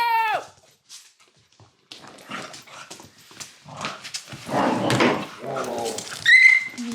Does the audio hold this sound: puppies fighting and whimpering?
yes